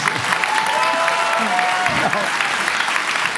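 Audience applause at a conversation event with a governor, steady crowd clapping mixed with some voices and a brief tonal whistle-like sound.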